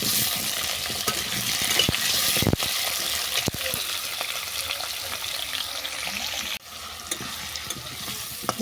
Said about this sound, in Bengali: এই তেলের মধ্যে কুমড়োটাকেও আমি ভালো করে ভেজে নেব।